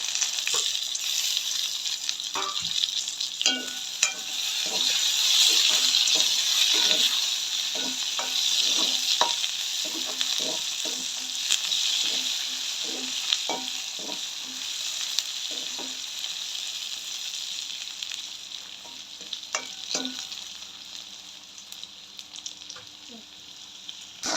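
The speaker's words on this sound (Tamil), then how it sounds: "வெங்காயம் வதங்கி கொண்டு வந்து கருவேப்பிலை வந்து போடுவோம்" Onions and curry leaves sizzle steadily in a hot pan, with repeated scraping and stirring clinks of a utensil throughout.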